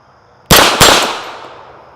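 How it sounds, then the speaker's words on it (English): An all-steel 9mm pistol fires a close, loud double tap: two sharp cracks about a third of a second apart, followed by a ringing decay. "Real easy double taps with a all steel 9mm."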